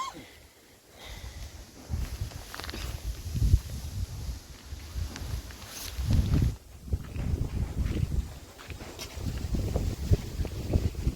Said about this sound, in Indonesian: tapi tetap aja karena anginnya terlalu gede